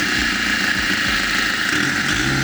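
A diesel engine running steadily after a cylinder head replacement, its low, continuous, loud drone with a faint irregular knock, alone without talk.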